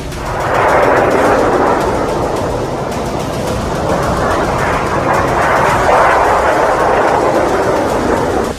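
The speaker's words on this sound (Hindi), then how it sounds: "ईरान की ओर से दागे गए कुछ क्लस्टर बम न्यूज 18 इंडिया के कैमरे में भी कैद हुए" Cluster bomb explosions from an Iranian attack, recorded as news footage: a loud, continuous roaring rumble that holds steady for about eight seconds with no individual blasts standing apart and no talking.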